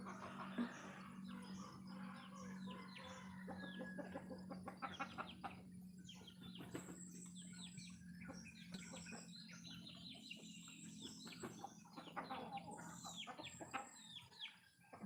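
Chickens cluck and chirp in a steady, busy chorus with a low hum underneath, no talking.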